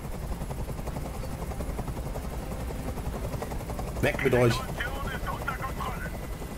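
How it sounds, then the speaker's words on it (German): A helicopter in the video game Detroit: Become Human keeps up a steady rotor drone and chopping hum in the background while someone shouts briefly over it. "Ich halte diesen Krach nicht mehr aus! Dieser Helikopter soll verschwinden!"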